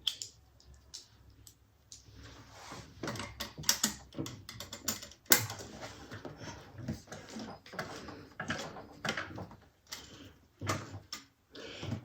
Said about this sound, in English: now I think I will change my bobbin